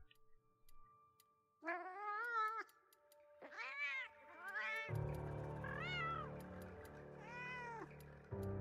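A series of high, drawn-out synthetic cat meows from the video game Monster Hunter Wilds, several in a row with brief gaps, clear and close, with faint ticking underneath.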